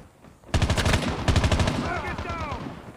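Bursts of rapid automatic fire from a newly tried gun in Call of Duty Mobile on the Crash map, loud and close, with two strings of shots followed by a trailing whirring tail.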